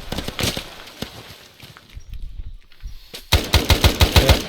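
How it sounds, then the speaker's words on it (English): Rapid bursts of gunfire in the Vietnam War game ArmA Prairie Fire, heavy automatic shots early on, a lull, then a loud, evenly spaced volley close up. "nearby enemies rush to the sound of the gunfire"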